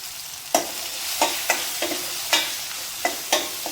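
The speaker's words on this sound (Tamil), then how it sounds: "நல்லா தக்காளி நல்லா வதங்கிருச்சு" Tomatoes sautéing in a pan for a tamarind curry, a steady frying hiss broken by repeated sharp scrapes of a stirring spoon at a loose, uneven rhythm, close and clear with no talk.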